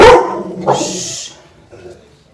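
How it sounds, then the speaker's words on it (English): A dog lets out a loud bark up close, followed by a second burst of barking, then the sound trails off into quieter yips. "They bark if they hear anything"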